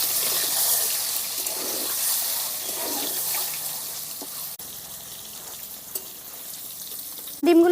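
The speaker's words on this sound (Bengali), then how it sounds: "এখন ডিমগুলো আমি ভেজে নেব।" Eggs seasoned with salt and turmeric fry in hot oil in a pan, a close hissing sizzle that is strongest at first, then softens and crackles faintly.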